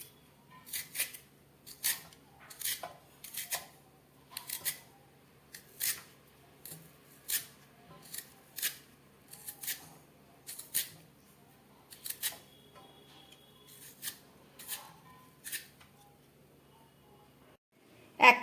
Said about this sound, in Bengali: এবার এই আলু আর পেঁয়াজটাকে খুব ভালো করে কেটে নিচ্ছি আমি।